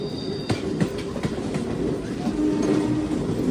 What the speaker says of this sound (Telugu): ప్యాసింజర్ ట్రైన్ ముందు వెళ్ళిపోతుంది చూడండి